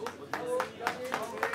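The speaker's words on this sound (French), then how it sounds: "qui sont applaudis par les photographes" Photographers applauding at a Cannes photocall for a documentary, a short burst of scattered handclaps at moderate distance, in quick uneven bursts over a faint background.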